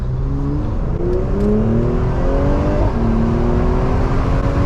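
A Mercedes C43 AMG accelerates hard on a road drive, its engine loud and close, pitch rising through repeated gear changes with a brief dip between shifts.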